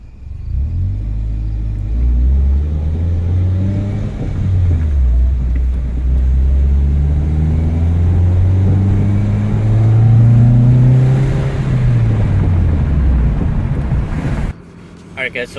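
A Toyota Celica on a test drive after a clutch replacement, its engine rumbling steadily from inside the cabin. The pitch rises and falls through the gears for about fourteen seconds before the sound cuts off abruptly.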